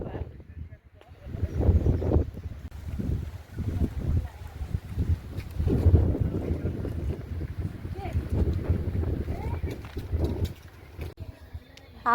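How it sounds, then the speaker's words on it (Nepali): Strong wind buffets the microphone at Jarsingpauwa, a loud low rumble that surges and drops in uneven gusts for most of the stretch. "हावा चाहिँ अति ओभरै चल्दो रहेछ कि यहाँ"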